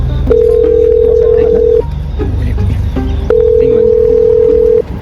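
A telephone call tone sounds while phoning, two long steady ringback tones separated by a pause, loud and close, with faint background murmur underneath.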